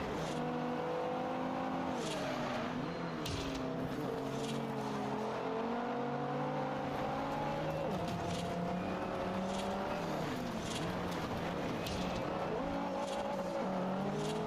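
Race car in Forza Horizon, engine roaring steadily for the whole stretch with pitch climbing and dropping through gear changes and revs, loud and close with no talking.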